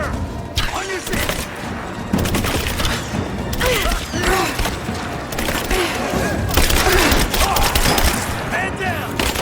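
Sustained, loud, crackling gunfire and impacts in the game Rise of the Tomb Raider, layered with booms and shouting voices throughout a chaotic combat scene.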